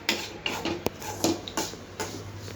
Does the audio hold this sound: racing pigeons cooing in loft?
no